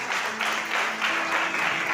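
An audience claps steadily through a short, dense wash of applause with a faint tonal hum underneath at a Spanish-language church discipleship gathering.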